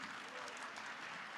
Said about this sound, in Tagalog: Isa pang palakpak para sa ating Panginoon.